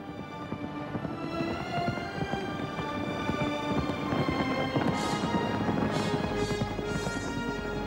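Cavalry horses of ancient China, their hooves clip-clopping steadily at a run across ground, with scattered sharp high crashes toward the end.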